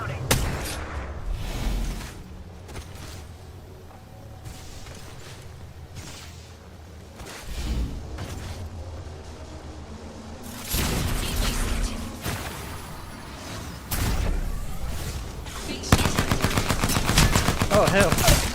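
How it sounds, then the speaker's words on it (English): Video game firefight with repeated bursts of automatic gunfire, some distant and some close and loud, clustering into heavy volleys toward the end, with players talking between shots. "Opening fire."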